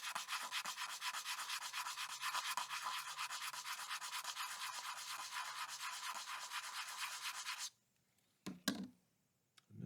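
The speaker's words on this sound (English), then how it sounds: "I'll just keep sanding this" Steady rhythmic sanding of a wheel bead lock on a Pro/Street wheel, a close, loud rasping scrub for most of the clip, then stopping into near silence broken by a few knocks.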